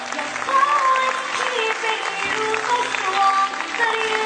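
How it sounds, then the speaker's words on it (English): Clapping from an audience at a junior school annual function after a children's dance, a steady wash of applause with a bright tone running through it and voices and cheering mixed in. "The sound of the clap has gone down."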